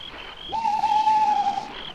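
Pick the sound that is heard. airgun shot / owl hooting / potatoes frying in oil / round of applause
owl hooting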